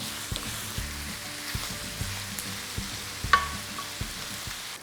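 Steady sizzling of chicken skin frying in a pan, with a rhythmic scraping of a utensil stirring through it, close and fairly loud.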